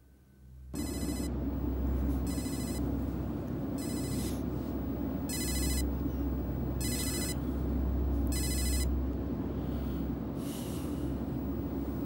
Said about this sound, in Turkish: Kim arıyor sabahtan beri seni Abdüley